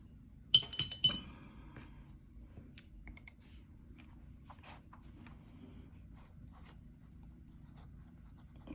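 A dip pen scratches across paper with Diamine Holly Sheen ink, a quiet close scratching of pen strokes after a few glassy clinks of the nib dipping into the ink bottle.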